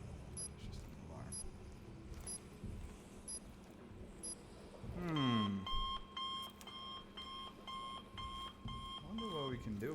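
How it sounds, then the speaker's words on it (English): Alarm in Deathloop ringing continuously from midway on, a loud sustained electronic bell tone with steady harmonics over game ambience, with someone talking before and during it. "It's just an alarm."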